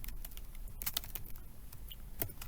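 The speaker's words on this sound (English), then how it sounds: "You can type your last name" A name is typed on a computer keyboard as a file title: quiet, irregular clicking keystrokes, some brisk and some spaced apart, close and faint, with no talking.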